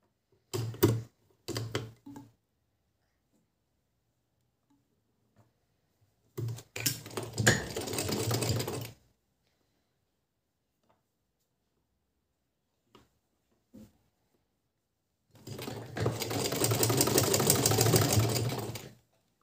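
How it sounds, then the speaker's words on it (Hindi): Sewing machine stitching piping onto velvet cloth for a small deity outfit, running in three separate bursts of steady whirring, close and loud, with brief clicks between and no talk. "तो चलिए मैं सिलाई लगा के बताती हूँ आपको।"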